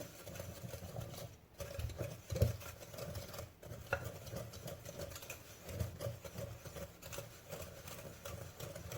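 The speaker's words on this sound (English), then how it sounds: "I'm going to mix it well until creamy" Butter and about a cup of sugar being creamed together in a bowl for a lemon cake, a steady low mechanical whir with soft scraping and occasional clinks, continuous and close throughout.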